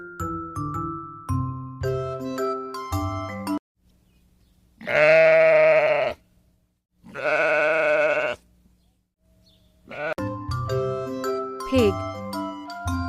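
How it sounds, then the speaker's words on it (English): A goat gives two long, loud, wavering bleats close by, separated by a brief pause, with light chiming music before and after. "Goat."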